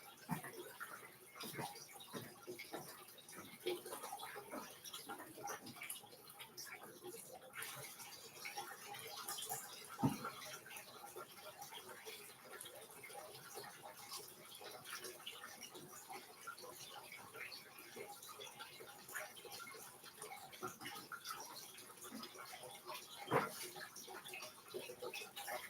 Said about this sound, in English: So now all we're doing is we're filling it back up.